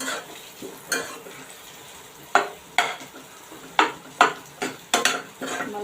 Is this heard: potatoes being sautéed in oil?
yes